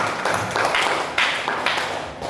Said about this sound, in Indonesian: Tepuk tangan dulu Bapak dan Ibu semua.